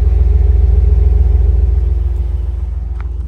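A pick-up truck engine rumbles loudly and steadily while driving through sand, a deep pulsing drone that eases off slightly toward the end, with no talking.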